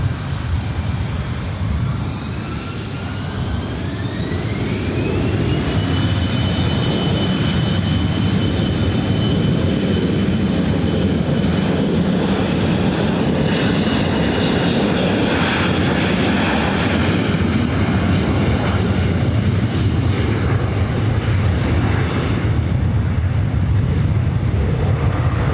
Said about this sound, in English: Skywest 105 Whiskey, wind 230 at 12, runway 24 right, clear for takeoff